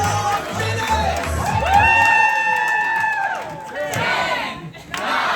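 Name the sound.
crowd cheering at Coogee Surf Club challenge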